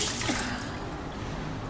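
A kitchen sink tap runs water in a house, giving a soft continuous splashing hiss heard close but fairly quietly.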